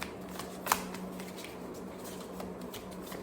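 Tarot cards are shuffled in soft, continuous papery riffles, with one sharper snap partway through and a faint low hum underneath, close and quiet.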